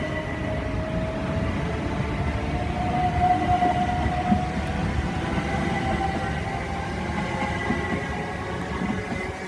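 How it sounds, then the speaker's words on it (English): A Virgin Trains Pendolino passes through Watford Junction on the West Coast Main Line, a steady loud rolling roar of wheels on track with faint clatter and hum, sustained throughout. "There the Pendolino goes."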